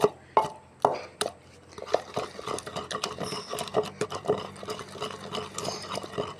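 Onion, green chilies and red chilies pounded in a mortar with a pestle for chutney: a few spaced heavy thuds, then quicker, irregular crushing strikes with wet squelching.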